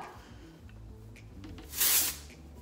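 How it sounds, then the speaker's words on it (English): A short, sharp hiss of texturizing hair spray bursts out once near the mic, lasting about a quarter second against a quiet room. "So I'm going to use a little texturizing spray"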